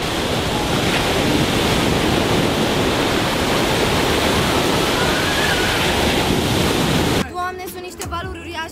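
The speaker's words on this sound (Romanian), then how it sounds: "Doamne, sunt niște valuri uriașe." Huge ocean waves heard from a boat at sea make a loud, continuous rushing roar for about seven seconds, then cut off abruptly into voices talking near the end.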